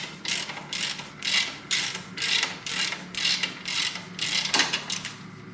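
Ratchet wrench loosening a bolt on a front-wheel-drive Toyota during clutch replacement, about nine quick rhythmic clicking bursts close up in a quiet garage.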